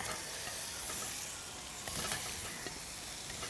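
Quail eggs drop into a pan of hot frying masala and sizzle steadily with a dense, constant hiss, close up and fairly loud. One brief sharper crackle stands out partway through.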